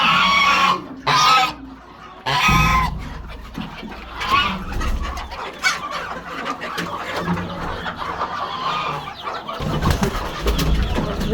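Pigeons and chickens on a rooftop garden, with cooing and clucking calls repeating close by over a few loud rustles and bumps.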